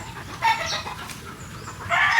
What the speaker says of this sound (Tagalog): hinahuli ko na lahat yung mga inahin na gagamitin sa breeding